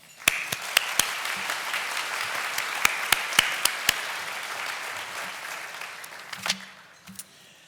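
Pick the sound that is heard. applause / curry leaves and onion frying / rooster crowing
applause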